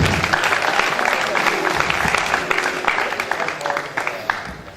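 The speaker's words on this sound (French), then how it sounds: "On peut l'applaudir très fort." Wedding guests applauding together: dense, sustained clapping from a crowd in a reception room, loud and close, gradually tapering off with faint voices mixed in.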